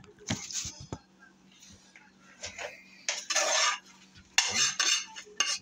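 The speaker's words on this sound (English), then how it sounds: "Use the plate to transfer the fried rice." Fried rice being scooped from a pan onto a plate, with scattered clinks and scrapes of metal utensils against dishware and a few soft rustles of rice, close and intermittent.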